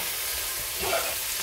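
Frozen mixed vegetables sizzle steadily in a hot pan, with a brief swell of stirring scrape near the middle of a continuous, moderately loud frying hiss.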